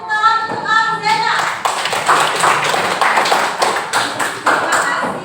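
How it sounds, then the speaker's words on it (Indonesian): Classroom applause for a student, Alzena, after her turn at the front: a brief tonal voice or sound at the start gives way to several seconds of scattered, uneven hand clapping from a small group, fairly close and steady. "Kita beri tepuk tangan untuk Alzena."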